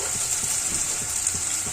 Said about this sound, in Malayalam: അതൊന്ന് നമുക്ക് ഫ്രൈ ചെയ്തെടുക്കണം. അപ്പൊ ഈ എണ്ണയിലോട്ട് ഇട്ട് കൊടുക്കാം.